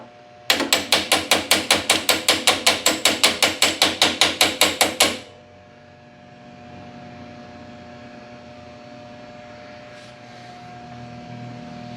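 Vice grips tap repeatedly on a carburetor with a stuck float, about twenty sharp, evenly spaced metallic knocks over four seconds, then quiet hum.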